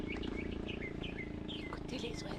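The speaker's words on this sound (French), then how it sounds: "Écoutez les oiseaux." Many birds chirp and trill near a mangrove on the Dominican Republic coast by Luperón, with repeated bright calls over constant low rumbling wind or engine noise.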